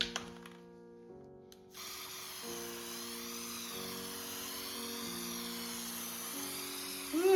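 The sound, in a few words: spraying golden archival varnish from a can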